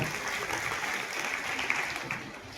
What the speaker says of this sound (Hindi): प्रवीण जी, जोरदार तालियों से स्वागत है।